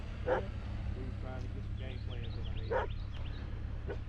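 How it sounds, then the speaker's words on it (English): A dog barks outdoors at a lower Alabama flying field, two or three short barks at moderate distance over a low background hum, with people talking through most of it. "Have some fun because Tuco's over there barking"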